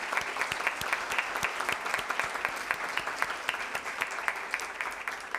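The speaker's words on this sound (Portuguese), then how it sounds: "Uma salva de palmas para eles." A seated audience at a sports merit awards ceremony claps for Paralympic boccia athletes, with moderately dense applause and distinct individual claps standing out, fairly even throughout.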